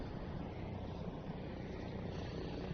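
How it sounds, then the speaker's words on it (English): A large cargo plane rolls to a stop at an airfield, its engines giving a loud, steady, continuous roar with no talk. "Jenny, plane has officially stopped completely, and now vehicles are moving over"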